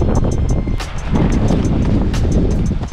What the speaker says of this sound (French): C'est officiel, j'ai jamais vu autant de vent de ma vie.